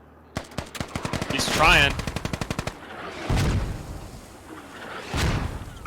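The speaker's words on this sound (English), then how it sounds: "Londard sees this 50 cal gunner" A .50 cal machine gun fires in the video game Squad, loud, rapid bursts of evenly spaced shots up close, followed by heavier distant booms, while someone speaks briefly over the gunfire.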